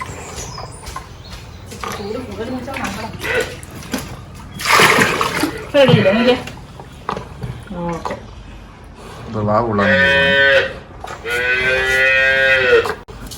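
A cow moos several times, long drawn-out calls close by, with a splash and some voices in between.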